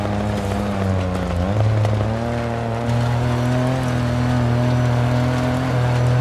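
A steady, loud car engine in the racing game DiRT 4 drones at high revs, its pitch dipping and climbing briefly as it shifts and keeps running.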